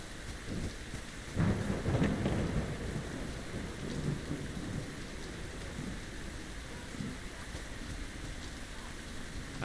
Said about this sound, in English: I wish this rain would just piss off for a bit.